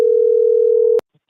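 A steady telephone line tone sounds on a call that should be ringing, one continuous loud note for about a second that cuts off abruptly into silence.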